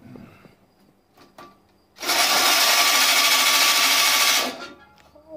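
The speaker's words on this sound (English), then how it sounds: "And the best case scenario is a cordless drill" Cordless drill with a socket driver fitted, used on a reel push mower, whirs in one steady high-pitched burst of about two and a half seconds after a few quiet clicks and handling knocks.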